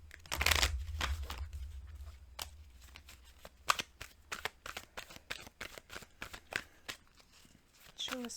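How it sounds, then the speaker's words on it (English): Oracle cards shuffled by hand in a quiet room, a rapid burst of riffling followed by a steady series of short, crisp card snaps and slaps at close range. "I am gonna pull a wisdom card for you."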